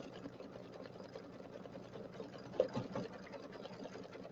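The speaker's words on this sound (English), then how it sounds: "I wish I could fast forward through the sewing, but is it okay to just watch it sew?" An embroidery machine stitches a St Patrick's Day settee pillow design, a faint, steady, rapid mechanical chatter running throughout with one slightly louder clack midway.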